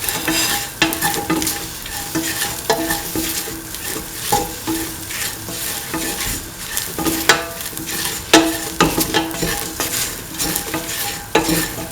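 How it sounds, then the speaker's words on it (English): Soya chunks, potato pieces and salt are stirred in a frying pan, with a continuous sizzle under repeated scraping strokes of a spoon against the pan at an uneven rhythm, loud and close. "Mix all the ingredients thoroughly."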